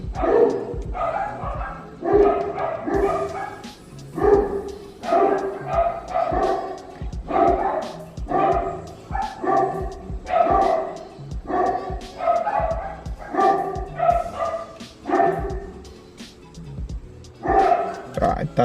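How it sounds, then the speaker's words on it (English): Dogs bark repeatedly in quick, overlapping bursts throughout, fairly close, with a person talking over the noise. "I'm sorry if you can hear like all the dogs barking."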